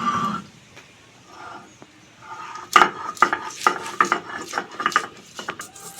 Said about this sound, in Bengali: আদা আর রসুনটা বেটে নেব।